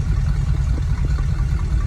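Car engine idling in a highway traffic jam, a low steady rumble with a faint hum, close and continuous with no talking.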